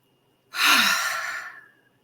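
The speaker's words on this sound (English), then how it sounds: "Start with our big cleansing breath in." A single deep, audible breath is drawn in, then slowly eased out in a long, soft, airy exhale, close and alone, as part of a labor breathing practice.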